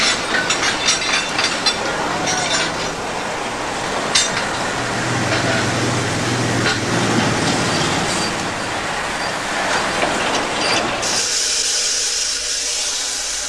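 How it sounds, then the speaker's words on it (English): A heavy steam locomotive shunting wagons rumbles and clanks along steadily, wheels clicking over rail joints, with a brief hiss near the end. "Here they're down to their last 2 steam locomotives, both reduced to the unglamorous job of shunting wagons"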